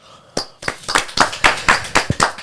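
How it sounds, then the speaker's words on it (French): A few people clap in sharp, distinct, closely miked claps inside an apartment building, starting with a single clap and then settling into a quick, steady rhythm of roughly a dozen hits. "des gens qui applaudissent dans l'immeuble"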